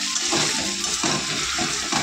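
Water poured into a pan of meat being cooked down on a low gas flame: a continuous close rushing splash that fills the whole moment, with no talk.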